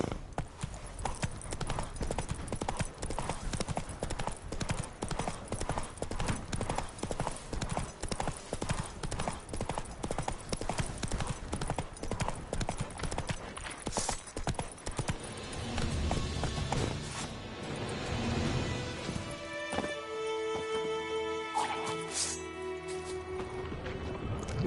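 Galloping horse hooves from The Witcher 3 video game, a steady rapid clip-clop running loud and continuous for most of the stretch before giving way to other game sounds near the end.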